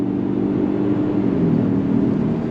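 A 2023 Lincoln Corsair all-wheel-drive luxury SUV pulling hard under throttle in Excite mode on the way onto a highway, heard from inside as a steady, moderate engine and road hum without a clear rev climb.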